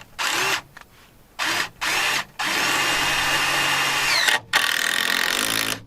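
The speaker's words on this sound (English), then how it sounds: "to make sure it stays put, I will put in a screw there." A power drill drives a screw into wood framing for a cabin wall. It opens with several short, loud bursts of the drill and then runs in one long, strong whirring stretch, near and loud, with no talk.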